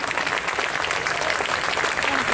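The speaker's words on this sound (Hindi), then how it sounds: "आइए जोरदार तालियों से आभार व्यक्त करते हैं जिन्होंने इतनी अच्छी प्रस्तुति आज हमारे सामने दी।" Sustained applause from an audience after a musical performance by an instrumental band at the OCTAVE Nagpur 2018 event, dense and steady throughout at close range.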